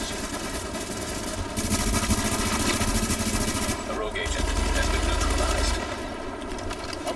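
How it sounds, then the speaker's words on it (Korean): Sustained automatic gunfire in The Division's Dark Zone, rapid rattling bursts running nearly continuously for several seconds with a brief dip midway, loud and close over a dense game mix. "어이구 쏘네"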